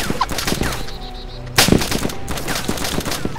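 Rapid gunfire bursts from the DayZ Standalone game crackle in repeated volleys, with one loud, close shot standing out midway among steadier automatic fire.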